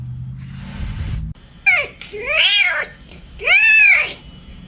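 A cat meows twice, loud and close, with drawn-out rising and falling cries after a brief burst of background noise.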